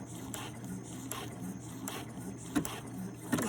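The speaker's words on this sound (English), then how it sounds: "watch as I sew" Sewing machine stitching a blind hem on pants, a soft steady mechanical whir with faint periodic clicks of the needle, quiet and close, with no talking.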